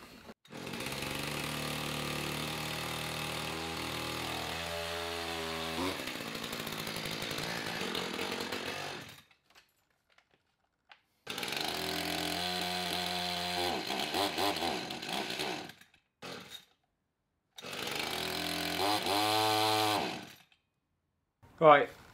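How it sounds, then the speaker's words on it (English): A small, old chainsaw engine running on old or low fuel fires in loud bursts, revving and cutting out several times with short silences between, close by. "if we're going to need a chainsaw, we may as well use what we've got"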